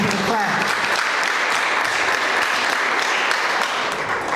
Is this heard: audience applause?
yes